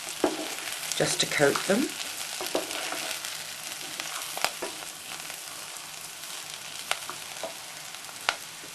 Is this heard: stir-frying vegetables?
yes